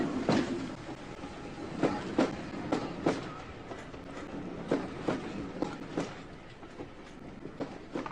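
A railway train rolls along the track, with rhythmic clickety-clack wheel beats over rail joints under a continuous rumble, fairly close and moderately loud, with no talk.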